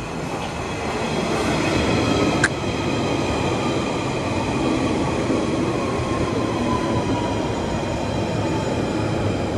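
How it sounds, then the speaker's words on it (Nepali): A London metro train rumbles steadily as it pulls in, with a continuous low roar, high whining tones and a single sharp click partway through. "यताको मेट्रो नि आइसक्यो, ट्रेन।"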